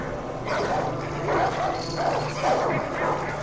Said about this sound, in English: Got some nice dogs over here.